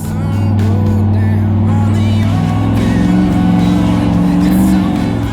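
Off-road race car engine at the King of the Hammers race, a loud steady drone held close throughout with no words spoken.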